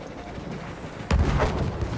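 A single explosion in the Battlefield 1 conquest beta, a sudden low boom that jumps out over steady battlefield rumble and rolls on for about a second.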